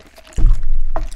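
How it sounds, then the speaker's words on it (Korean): With a mouthful of burger, cola is taken in a quick sip: a low, close gulping and sloshing swallow, followed by a brief wet click near the end. "입에 꽉 차있을 때 콜라 한입."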